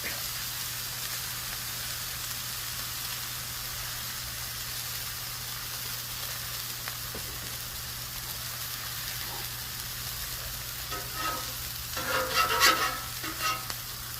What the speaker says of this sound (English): Lay my bun down. These will cook up really quick.